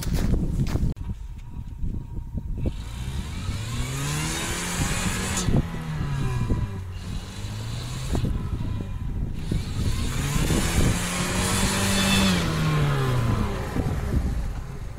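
A Lada Niva stuck in hard, wet snow is rocked free, its engine revving up and dropping back in repeated surges, loud and close with no talking.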